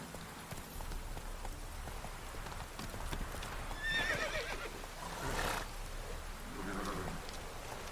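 Horse neighing and clip-clopping hooves from The Witcher 3 video game, the whinny clear mid-way over a steady bed of rain falling on surfaces, with no talk.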